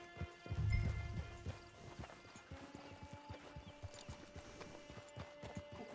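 Horse hooves clip-clop at a steady walking rhythm in Red Dead Redemption 2, a close series of sharp, even hits after a louder low rumble at the start, with no talk over them.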